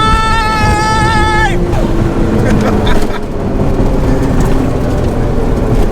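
Drag race between an 800 hp R34 Skyline and a 400 hp K20-powered sleeper Mini, with engines roaring loudly and continuously as they rev and pull away. Rising harmonic whine early on, then dense broadband engine and crowd noise with voices underneath.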